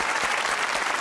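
Studio audience applause for a Pakistani comedy talk show, a dense even burst of clapping filling the room with no voices over it.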